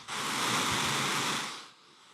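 Rain background sound plays from a phone, a steady broadband hiss that starts abruptly, holds, then fades to a quieter level.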